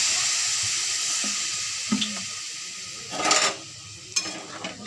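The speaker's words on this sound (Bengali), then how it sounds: "একটু জল দিয়ে দেবো।" Water splashes into a hot frying pan of potatoes and onions, with a faint clink early on, then a short burst of sizzling and hissing and a smaller splash afterward.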